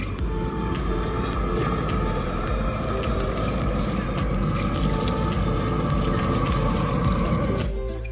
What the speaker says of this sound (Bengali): মাংস কাটা হয়ে গেছে, ভালো করে ধুয়ে নিচ্ছি।